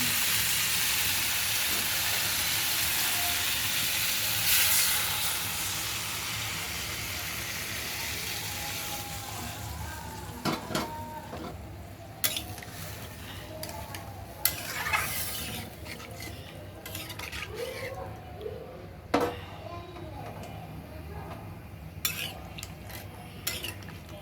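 Broth poured into a pan of rohu fish curry with cauliflower, potato and eggplant: a loud steady sizzle and hiss at first, easing into softer bubbling with scattered sharp clinks of a spoon against the pan.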